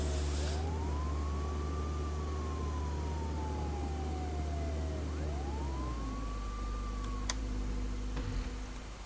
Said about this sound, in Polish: to załączę tam syrenę jednak